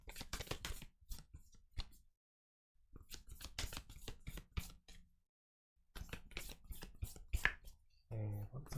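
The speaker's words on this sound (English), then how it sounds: "These ones need a bit of a shuffling." Oracle cards being shuffled by hand in short bursts of soft, close riffling and flicking, with brief silent pauses between bursts and a voice speaking at the end.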